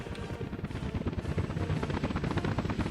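Helicopters fly in the city-building game Workers and Resources, giving a dense, steady rotor chop that stays loud and close throughout, with no talk over it.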